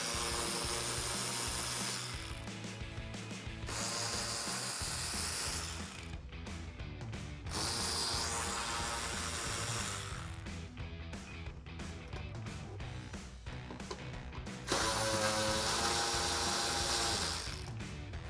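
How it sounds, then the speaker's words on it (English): A ratchet with a 10mm socket works bolts loose on a 2005-2009 Mustang, its rapid pawl clicking running in long close bursts separated by brief pauses, with a few scraping, rattling mechanical sounds in between. "So I'm going to take my 10mm socket on my ratchet and remove those."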